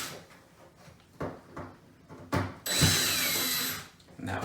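A power drill whirs briefly while backing screws out of a Samsung front-load washer's door lock mechanism, with a few clunks and handling knocks beforehand, close and fairly loud.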